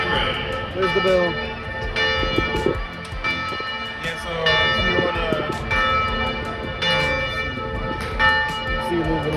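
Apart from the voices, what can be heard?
bell ringing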